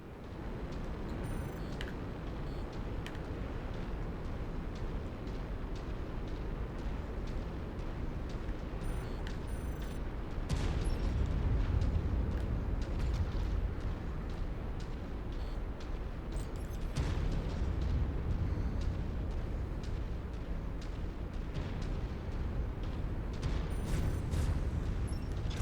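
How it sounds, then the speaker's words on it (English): Artillery guns firing in the mech combat game MechWarrior 5: Mercenaries, heard as a continuous low rumbling barrage with heavy booms, swelling louder near the middle, with no talk. "let's get away from these artillery guns because they're annoyingly loud and making the screen rock"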